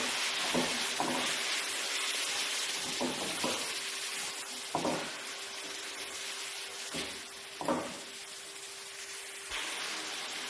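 Chicken frying in a pan with ground garlic and ginger paste for nihari: a steady loud sizzle and hiss throughout, broken by several short scraping stirs.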